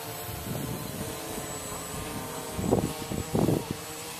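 A model airplane engine drones overhead as a steady, faint whine, broken by a few louder buffets of wind or handling noise near the end.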